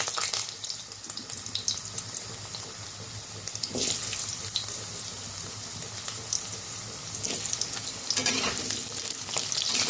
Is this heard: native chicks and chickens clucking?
no